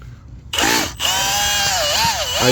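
A drill-powered wood splitting auger boring into old lumber, close and loud, with a whining motor pitch that dips and wavers as it bites, after a brief pause at the start.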